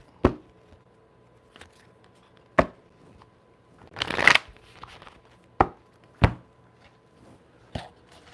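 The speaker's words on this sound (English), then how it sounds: "Let's get a little shuffle." Sharp riffles and taps of shuffled cards repeat at irregular intervals, with a longer rustling shuffle in the middle; close and otherwise quiet.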